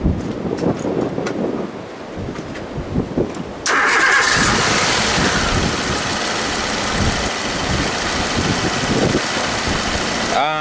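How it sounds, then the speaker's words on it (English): A car engine cranks and catches after some outdoor wind buffeting, then settles into a loud, steady idle that runs to the end, with gusty wind still brushing the microphone. "I'll just start the engine."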